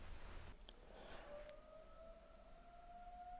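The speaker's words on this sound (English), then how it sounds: "We're having a siren test" A civil defense siren sounds during a test, rising in a long steady wail that holds its pitch for several seconds, moderately loud and alone after a brief burst of noise at the start.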